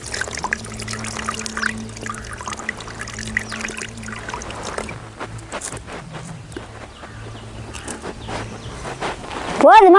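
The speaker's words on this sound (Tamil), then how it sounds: "இந்தா இன்னும் கொஞ்சம் தண்ணி ஊற்றி நல்ல கரை." Water poured into a simmering spicy onion curry made with small shallots in a traditional home kitchen, a steady pouring trickle with a few clatters, ending in a louder burst near the close.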